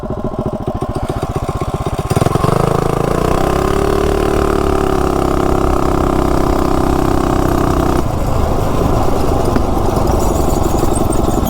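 A modified mini bike engine with a 60 sprocket chugs at a low putter, then revs up hard into a loud, steady high-pitched drone before the pitch drops and it keeps running close by.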